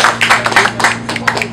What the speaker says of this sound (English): Round of applause for Danielle.